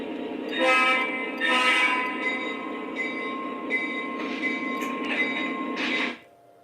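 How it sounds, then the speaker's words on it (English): An O gauge model train rolls steadily along the track with a continuous mechanical hum and rattle, then stops abruptly; no talking. "now we're gonna move it forward and we're gonna uncouple from our train."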